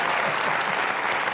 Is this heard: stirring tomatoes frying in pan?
no